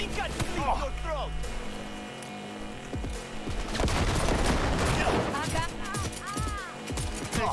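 Gunfire in Cyberpunk 2077: a loud, busy firefight of repeated shots and bursts, with shouted voices over the shooting.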